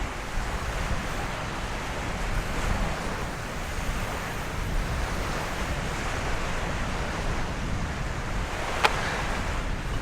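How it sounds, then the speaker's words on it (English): Ocean waves break steadily off a deserted island with an abandoned lighthouse, a continuous loud wash of surf mixed with wind rumble and no talking. "the waves are looking a bit gnarly."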